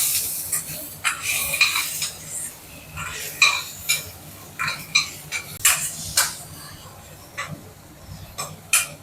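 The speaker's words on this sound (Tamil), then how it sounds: "வெண்டைக்காய் நல்லா வதங்கிருச்சு." Okra sautés in a pan for a spicy South Indian kara kuzhambu, with repeated close spoon scrapes and clinks against the metal over a low sizzle.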